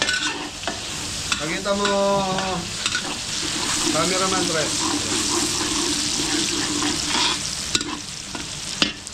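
Spicy chicken wings sizzle and crackle in hot oil while being stirred in a kitchen, with splashes of running water and scraping utensils, under a voice talking in Filipino.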